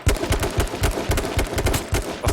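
Rapid bursts of gunfire in a video game, loud and close, cracking in quick irregular succession with no talk over them.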